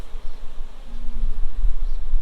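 Honeybee drones buzz steadily inside a beehive brood box, a close, continuous low hum of many wings with no talking.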